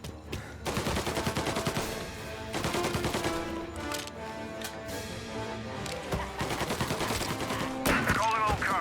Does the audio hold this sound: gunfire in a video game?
yes